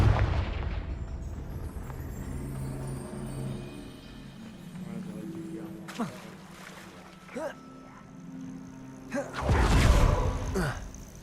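Fiery Confringo spell blasts in Hogwarts Legacy burst out as a couple of sharp, booming impacts over a rumbling game soundscape, with a voice speaking in between.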